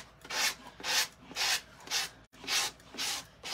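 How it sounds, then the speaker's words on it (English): A sanding sponge rubs back and forth along the edge of a metal tulip in steady, rhythmic strokes, about six raspy passes at an even pace, close up with nothing else heard. "take a sanding sponge and just go down with it, right along that edge."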